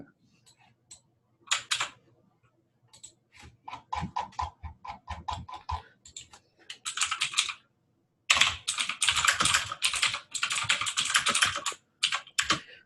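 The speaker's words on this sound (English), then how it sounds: "I don't know how loud my keyboard is for everyone else." Loud computer keyboard typing in rapid bursts of clacking keystrokes, pausing briefly, then a long continuous flurry of fast typing close to the microphone.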